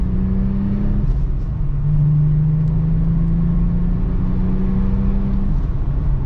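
A VR6 Jetta wagon engine hums loud and close from inside the car, its drone rising and falling in pitch as it revs toward about 4,000 RPM over a steady road rumble.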